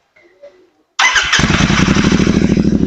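A Royal Enfield GT 650 with a Red Rooster Performance exhaust and dB killer fires up after a quiet moment, then settles into a loud, close, throbbing idle.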